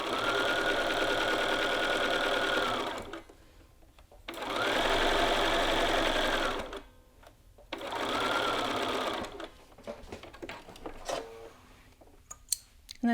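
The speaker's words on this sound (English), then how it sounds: "Just sew along the yoke seam." A sewing machine stitches along a garment's yoke seam in three sustained runs of rapid, even whirring, separated by brief pauses, followed by softer clicks and handling noises.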